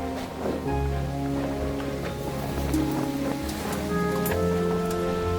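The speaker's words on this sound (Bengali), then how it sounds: "ওপরে ঝড়ের মতো হাওয়া দিচ্ছে" Strong, gusty wind blows steadily across the rooftop of a house under construction as dark clouds gather before rain, a loud continuous rushing roar with brief flutters and knocks.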